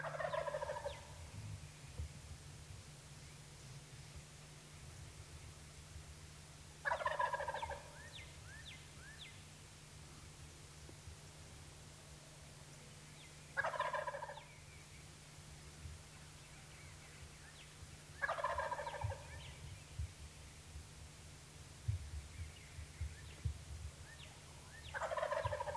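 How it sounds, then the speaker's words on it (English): A wild turkey gobbles from a tree roost at dawn, loud and echoing, in five spaced bursts roughly every five to six seconds over a steady low hum of background noise. "He gobbled and gobbled and gobbled"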